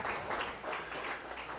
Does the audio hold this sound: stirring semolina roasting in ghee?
no